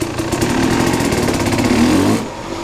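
A Kawasaki KX 250 two-stroke dirt bike engine runs loud and steady inside an old abandoned sewing plant building, buzzing with a rapid rattle, then cuts off near the end.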